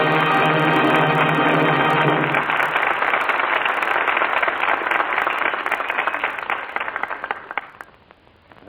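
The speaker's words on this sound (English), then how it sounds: "That applause is the seal of approval on tonight's play" Studio audience applause at the close of a Lux Radio Theater broadcast play, a dense steady wash of many hands clapping that holds strong for several seconds, then thins and fades away near the end.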